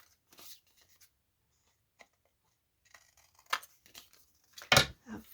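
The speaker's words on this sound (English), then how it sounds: "let me get my scissors and I will just trim the corners" Scissors trimming the corners of paper tag pages for an old-fashioned autograph book, a few quiet snips and crisp paper cuts near the end after mostly silence.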